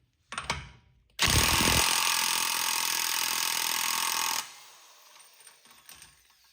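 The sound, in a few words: corded power tool removing NSX axle nut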